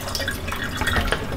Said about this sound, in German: Das ist unser Salzwasserhahn.